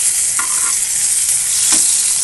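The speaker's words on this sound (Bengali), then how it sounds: "একে আমি উল্টিয়ে দিচ্ছি।" Eggplant slices fry in hot mustard oil with a loud, steady sizzle, while a couple of brief scrapes and clacks mark the slices being flipped in the pan.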